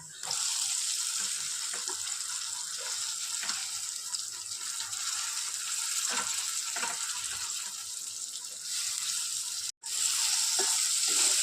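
Kartule (spiny gourd) vegetable sautéing with masala in a pan, a continuous loud hiss and sizzle with occasional soft stirring scrapes, briefly cutting out near the end, no speech.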